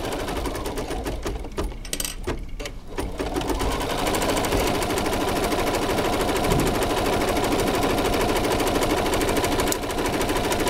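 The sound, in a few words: Bernina 830LE sewing machine stitching buttonhole over gimp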